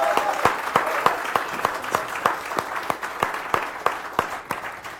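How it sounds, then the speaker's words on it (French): An audience at a startup demo day pitch event applauds, with sharp, evenly spaced claps standing out over a dense, steady wash of clapping that holds for about five seconds without voices. "je vais vous demander de faire un tonnerre d'applaudissements pour Jordan Miron"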